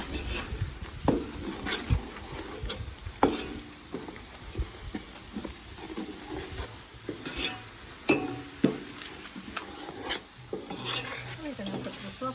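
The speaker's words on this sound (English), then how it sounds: "Give it a good stir." A spoon stirs Kashmiri chili powder into a simmering South African beef curry. It scrapes and knocks against the pot in irregular close strokes over a low sizzle, with no talking.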